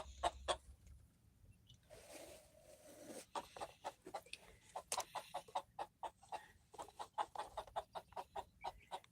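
A hen clucks in a quick, repeated series of short, close calls, mostly steady with a brief pause partway through, against a quiet farmyard background.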